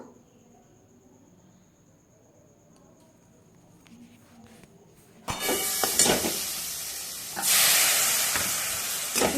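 Fig curry in a pan, at first a faint quiet stretch, then a sudden loud sizzle and hiss as boiled figs and water go in, with scraping stirs and a second surge of frying noise.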